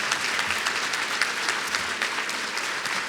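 Audience applause at a City of Inman community event, a dense, even burst of clapping from a crowd filling the whole short stretch.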